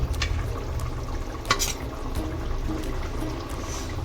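Chicken curry stirred in a pot, a close wet scraping and bubbling with a soft simmering sizzle underneath and one sharper knock of the spoon, no voices.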